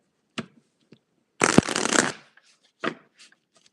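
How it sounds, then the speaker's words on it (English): Tarot cards being shuffled in a quick riffle, a dense burst of papery flutter lasting about half a second, framed by a few soft taps and card handling clicks before and after. "Oh, I have to shuffle."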